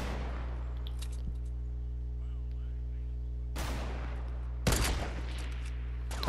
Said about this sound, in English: I shot right at his feet. And then I got sniped at.